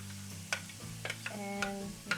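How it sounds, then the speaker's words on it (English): Onions frying in a pan for a jalapeño cheddar venison meatball soup, with a steady close sizzle under repeated stirring clatters and scrapes. "It's going to fry your onions really nicely."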